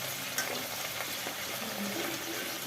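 Potato, pumpkin and ridge gourd with vegetable stems frying and being stirred in a pan, a steady close sizzle with soft scraping stirs throughout.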